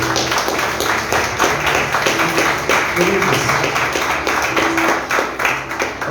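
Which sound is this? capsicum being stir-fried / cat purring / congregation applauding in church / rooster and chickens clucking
congregation applauding in church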